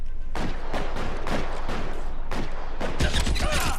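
Gunfire in the video game L.A. Noire: a loud, rapid volley of shots, irregular bursts in quick succession with no pause throughout.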